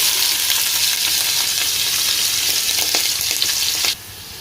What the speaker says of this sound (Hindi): प्याज को अच्छे से ब्राउन करना है